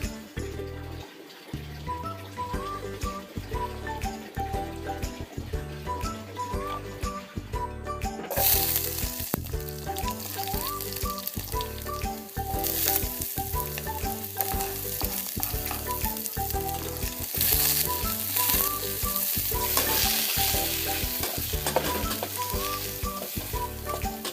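Mangtoyanlog soup ingredients sizzle and fry in a pan while being stirred, a steady close crackle that runs throughout with rhythmic scraping and no talking.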